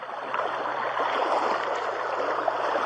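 High, fast stream water surging over its bank at a gold mining site, a steady broadband rush and gurgle close by that fills the whole clip without pause.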